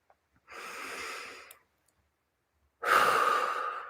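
Deep breathing, a long inhale and a longer exhale separated by a short pause, close and clear with no talk over it.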